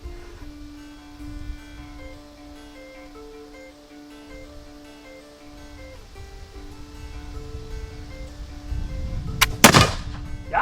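A single sharp, loud gunshot from a paddle butt wheellock carbine rings out near the end, preceded by a quiet background with a steady tonal hum.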